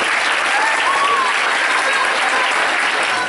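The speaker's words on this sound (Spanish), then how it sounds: "Así que un aplauso para el colegio." Loud, dense applause from a school concert audience fills the whole stretch, a continuous roar of clapping with faint cheering tones threaded through it, no talking.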